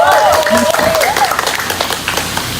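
Audience applause breaks out during a TV show taping, a dense burst of clapping that continues under a voice talking and gradually thins out.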